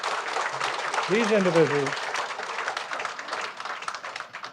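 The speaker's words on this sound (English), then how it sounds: "Now, a big round of applause" Audience at an alumni award ceremony applauding the nominees, a moderate, continuous patter of clapping in a hall with a voice speaking briefly over it near the start.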